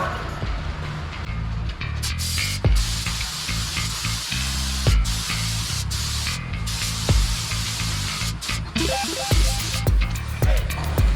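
Spray paint going onto the front bumper of a Ford F150 during a refinish: a steady, close, continuous hiss with scattered knocks and clicks, and no talking.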